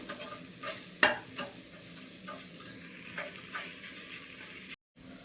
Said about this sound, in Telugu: ఇదంతా ఒకసారి మంచిగా కలుపుకోవాలండి